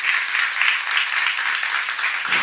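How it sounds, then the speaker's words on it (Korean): Church congregation applauding during a sermon, a steady wash of many hands clapping at an even level for about two seconds, fairly close, ending with a brief louder thump. "박수를 하세요."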